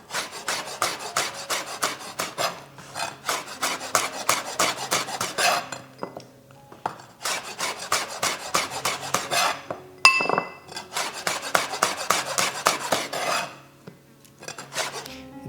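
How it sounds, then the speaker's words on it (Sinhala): A knife chops green chilies finely on a board for a Sri Lankan carrot sambol, close, rapid rhythmic tapping in long runs with brief pauses and an occasional clink. "කොච්චි ටිකක් මේ විදිහට හීනෙට කපා ගන්න."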